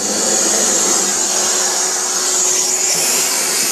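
A CycloVac central vacuum system runs steadily and loudly with a constant broadband whoosh and a high whine, no pauses and no voices.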